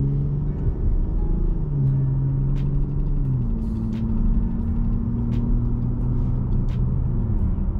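Car driving at moderate speed, a steady engine drone with gear-related pitch shifts and continuous road rumble, close and even throughout, no talk.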